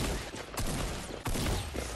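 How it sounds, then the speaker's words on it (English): Shotgun blasts in Fortnite land in quick succession amid dense gameplay noise, with sharp broadband bursts near 0.5 and 1.25 seconds over a constant loud backdrop. "Shotgun."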